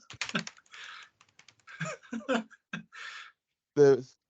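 Bursts of loud typing on a computer keyboard clatter in clusters between stretches of talk, with people speaking over and around the key presses.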